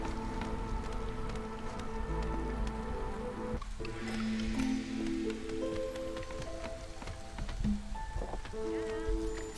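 Drizzling rain in the marshland setting of the video game Against the Storm, a soft steady patter of drops layered with wet squishes and ambient game tones, moderately quiet and continuous throughout.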